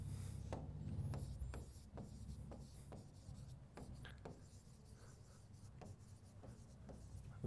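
Chalk or a marker moves across a classroom board in a science lesson, making repeated scratchy writing strokes with a few high squeaks. The strokes are soft and steady against a low room rumble.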